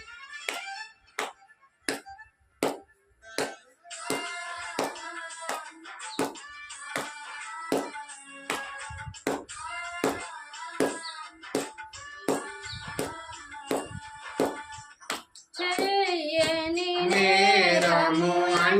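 A congregation claps in unison to a Telugu worship song, sharp rhythmic claps landing evenly beat after beat, joined by melodic singing and instruments, with a louder burst of music near the end.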